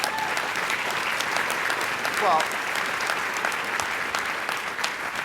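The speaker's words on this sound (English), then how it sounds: "I think that deserves a round of applause." Audience applause runs steadily throughout as a dense, even wash of clapping at an interview event, with a voice speaking briefly over it.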